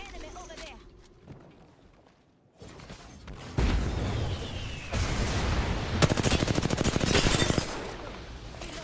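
Automatic gunfire in the Apex Legends video game, a rapid, loud rattling burst late in the clip amid busy game effects and footsteps, with voices talking.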